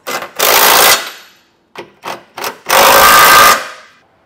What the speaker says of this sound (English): you can come back with a 3/4 inch socket and snug them all down